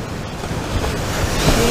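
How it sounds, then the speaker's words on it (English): Ocean surf rolling and breaking onto a beach where people are fishing, a steady wash of waves mixed with wind buffeting the microphone. "And these waves are awesome."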